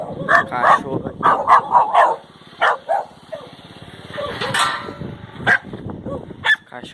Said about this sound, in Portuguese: Cachorrada aqui latindo